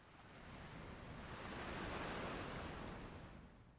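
Waves wash onto a beach in an anime episode, one soft, steady surge of broadband surf that swells and fades over a few seconds, faint and with no voices.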